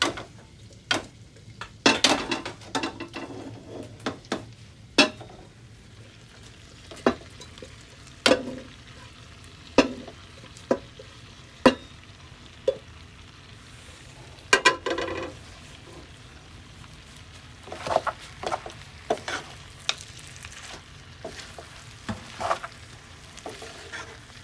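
Tapioca and beef being stirred in a frying pan, a spoon scraping and knocking against the pan in an irregular rhythm of sharp clicks over a low sizzle, close and with no talk.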